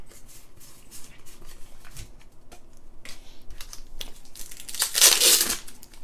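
Pokemon card pack wrapper ripped open by hand, a series of quiet crinkles and rustles building to a louder tearing burst near the end, no voices.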